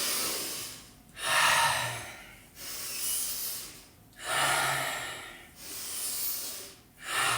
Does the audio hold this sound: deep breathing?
yes